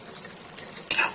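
Desi ghee and butter sizzling as they heat in a pan for creamy malai chicken, a short, steady frying hiss with a brief louder burst near the end, heard alone.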